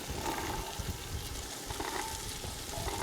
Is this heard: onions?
yes